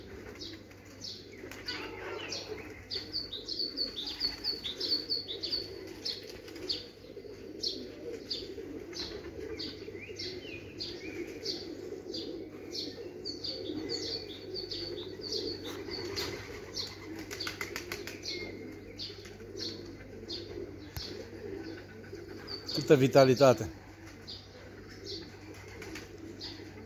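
Marathon racing pigeons coo and flap their wings near and loud for a long stretch, the soft cooing steady under a brief burst of flapping, with a short spoken exclamation.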